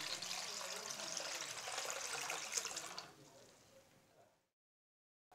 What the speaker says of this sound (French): Je rince les billes à l'eau claire.